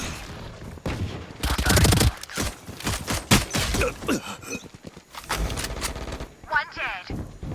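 Rapid gunfire in a shooter video game, loud bursts of automatic fire and single shots in clusters, with a voice talking over parts of it.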